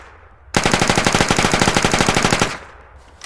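An SMG fires on full auto in the Arma 3 Apex video game, a loud, close burst of about two seconds with very rapid, evenly spaced shots that stops abruptly.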